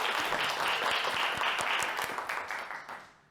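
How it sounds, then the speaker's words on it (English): Audience applause greeting an honoured guest, a radio station's editor-in-chief, as she stands; dense steady clapping from a room of people that gradually thins and fades toward the end. "Yes, a round of applause."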